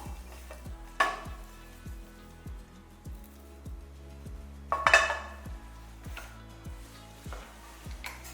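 Garlic dry-roasts in a pan for thuthuvalai powder. A quiet, soft roasting sound carries two sharp scraping strokes of a spatula and a faint, regular low ticking underneath.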